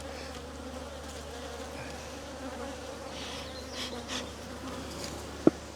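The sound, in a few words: honey bees buzzing around a beehive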